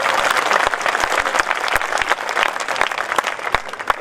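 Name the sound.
audience clapping at a poetry recital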